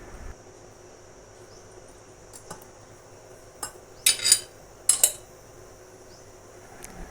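A few metal clinks and clatters of a kadhai and utensils on a stove ring out in brief bursts as the pan heats with a little oil, separated by quiet stretches over a faint background hum.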